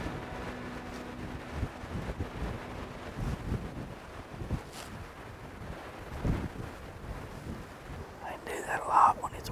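Gusty wind blows outdoors during a deer hunt from a tripod stand, buffeting the microphone in uneven rumbling surges, with a stronger gust near the end.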